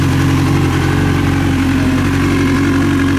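A Kawasaki 636 motorcycle fitted with a full Leo Vince exhaust idles steadily and close by, a continuous low, throbbing engine note with no talking over it.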